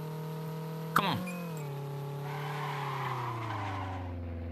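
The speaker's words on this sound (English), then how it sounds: "Ooh, nice drift." A car drifting in a driving game, a sharp impact followed by a sustained tire squeal over a steady engine drone that slowly drops in pitch, with a voice in the background.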